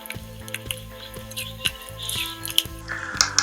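Mashed potatoes are stirred and mixed in a bowl, giving soft, quiet wet squishing and clicking sounds in an irregular rhythm, with a faint low hum underneath.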